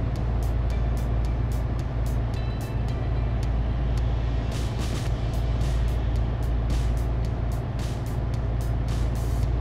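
In Euro Truck Simulator 2, a bus speeds past the player's truck on the road. A loud, steady engine drone and road roar run throughout, with repeated clicking ticks layered on top.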